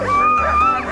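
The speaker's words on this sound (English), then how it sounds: "the more impatient the dogs became." Impatient sled dogs in Kiruna, Sweden, waiting for departure: a loud, close, high-pitched whining yelp held for about a second.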